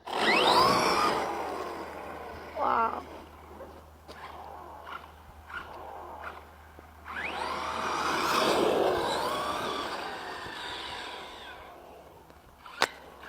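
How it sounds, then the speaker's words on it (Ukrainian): An RC buggy car races through dust, its small motor whining in rising and falling bursts, loud passes at the start and middle separated by quieter stretches with scattered clicks. "Я зараз покажу, як я на багі ганяю."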